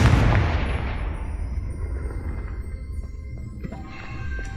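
A Confringo blasting curse explodes in Hogwarts Legacy with a single loud boom right at the start, its deep rumble decaying slowly over several seconds beneath faint game ambience.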